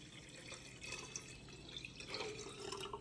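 Spring water poured from a container to make tea-free homemade kombucha, a steady, close splashing stream that runs unbroken for the whole stretch with no talking.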